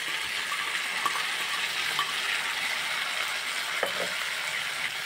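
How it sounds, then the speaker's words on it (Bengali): Potato pieces fry in hot oil in a pan for a Bengali rohu fish and potato curry, giving a steady, dense sizzle throughout with a few small clicks and taps. "আর আলুটাকে ভালো করে ভাজা ভাজা করে নেব।"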